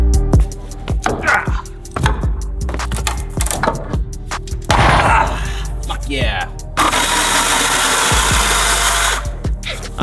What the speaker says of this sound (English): I knew this girly little chainsaw would come in handy.